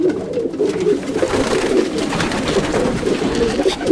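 Racing homing pigeons coo steadily in soft, overlapping low calls, a flock close by with a continuous murmur of cooing and fluttering.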